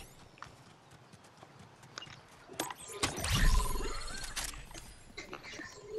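A llama in the Fortnite battle royale video game, a brief animal call rising out of game ambience with scattered clicks and clatter, loudest around the middle and fading after.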